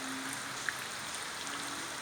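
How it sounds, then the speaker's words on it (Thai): Morning rain falling steadily in Pattani, Thailand, after a night of rainfall, a soft continuous patter and hiss with a faint isolated drip, alone without talk. "ฝนยังไม่หยุด"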